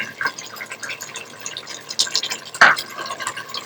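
Cooking oil, about one and a half cups, poured into a pot for a qeema karela dish, giving soft dribbling, splashing liquid sounds with a few sharper drips, close and fairly quiet, no talking.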